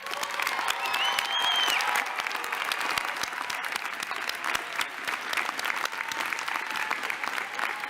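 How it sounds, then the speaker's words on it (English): Sustained applause from a convocation audience for the Northwestern Pritzker School of Law graduating class of 2018, a dense, steady wash of many hands clapping at full volume for the whole stretch. "we owe the class of 2018 another round of applause"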